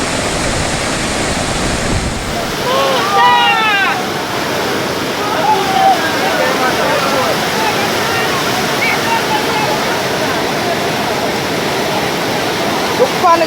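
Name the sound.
floodwater rushing through a gully after Hurricane Elsa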